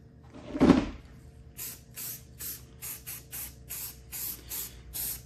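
A spray can lays light coats of paint on R2-D2 dome pieces: one louder burst, then about ten short, even hisses in a steady rhythm, close and alone.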